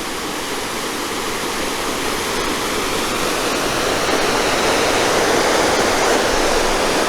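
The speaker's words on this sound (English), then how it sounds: "And then you have this waterfall going right up there" Steady, close rush of a waterfall beside a salmon hatchery fish ladder in Alaska, a dense broadband roar that holds constant and swells slightly toward the end, with no voices.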